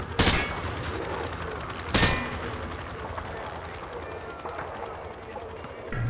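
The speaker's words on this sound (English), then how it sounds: "Just fire from the hip." Hip-fired gunfire in the Call of Duty Modern Warfare 2 training scene, two sharp loud bursts near the start and at two seconds over a steady background din.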